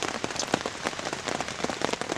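Steady rain pattering on a surface outdoors on a wet Appalachian Trail hiking day near Duncannon, a dense, even hiss of drops with scattered louder splats, no voices.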